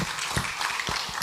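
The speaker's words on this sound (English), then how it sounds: "Another round of applause, please." Applause from the audience at a Ghanaian media report launch, a dense steady patter of many hands clapping at moderate volume, filling the short moment without speech.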